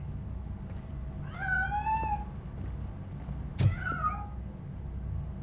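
In the video game Robocop: Rogue City, a cat hidden inside a piano gives two drawn-out meows, the second after a sharp knock, over quiet ambient background.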